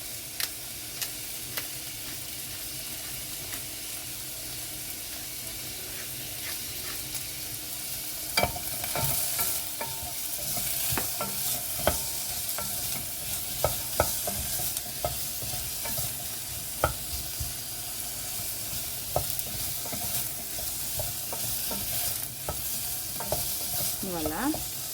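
Onion browning in a pan for a Malagasy tissam (Chinese greens with peanut paste) dish: a steady broadband sizzle runs throughout, broken by scattered clicks and scrapes of stirring, louder and busier in the second half.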